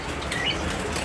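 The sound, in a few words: pet bird flapping its wings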